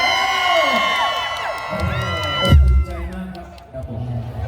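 A crowd at a Thai likay folk theatre performance cheers and whoops loudly, with shouting voices rising over a busy, reverberant mix of music and noise.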